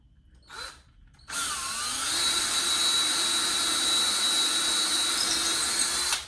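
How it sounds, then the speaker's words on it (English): Power drill boring into a maple guitar neck in a workshop, a brief burst then a long steady loud whine after a short pause, close by with no talk. "I take my little drill fixture off, and I come back and I drill again down to my blue tape"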